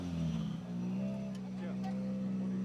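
A Ford Fiesta R5 rally car at a rally flag-off in Naivasha drones steadily, its engine tone rising slightly at moderate distance and fairly faint, with a commentator talking throughout.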